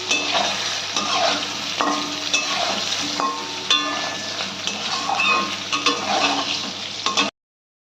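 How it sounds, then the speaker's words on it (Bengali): Brinjal pieces fry in hot oil with salt and turmeric, a steady loud sizzle running throughout, broken by scraping stirs and occasional clinks of a spatula against the pan, then stopping abruptly. "দিয়ে বেগুনটা আমরা আরেকটু ভেজে নেব।"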